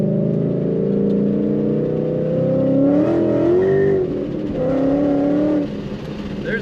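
A 2012 Ford Mustang GT coupe's V8 engine rises and revs while driving, a rough mid-pitched growl climbing through two strong pulls before easing off, heard from inside the car.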